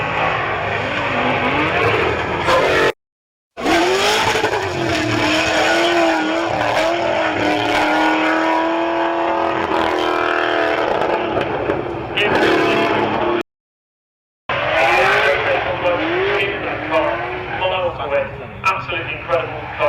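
Drift car driven hard through a lap at a drift event, with engine roaring and wavering pitch over tyre noise, loud and near for most of the time and broken by two short gaps, under a commentator's voice.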